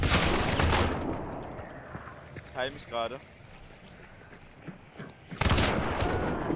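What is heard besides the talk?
gunfire in a video game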